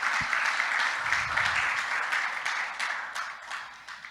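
A church congregation claps together in sustained, fairly even applause that slowly fades over a few seconds.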